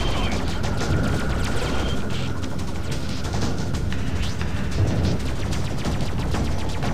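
Weapons fire from a spaceship cockpit in the space combat game Freelancer, a dense continuous clatter of shots and crashes over a steady engine drone, loud and unbroken throughout.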